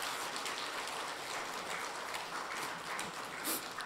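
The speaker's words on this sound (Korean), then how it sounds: "다 같이 박수로 환영하겠습니다" A church congregation claps to welcome a choir of women coming forward for a special song at a dawn prayer service, a steady, even patter of many hands heard somewhat far off, continuous without a break.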